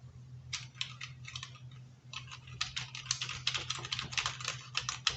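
Typing on a Logitech MK270 wireless keyboard with a standard QWERTY layout, full number pad and springy keys: rapid clusters of close, crisp key clicks in bursts with a brief pause, over a low steady hum.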